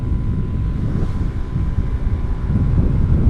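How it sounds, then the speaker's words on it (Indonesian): Honda Scoopy scooter fitted with an upgraded CVT pulling away gently under light throttle, a loud steady engine and drivetrain drone mixed with rushing wind buffeting the microphone. "Kita tarik gasnya pelan-pelan"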